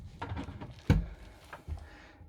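A drawer under the bed of a 2022 Carthago Chic C-Line I 9 XL QB motorhome slides with one sharp wooden knock near the middle, then quieter rattles and a softer bump, up close with no talk.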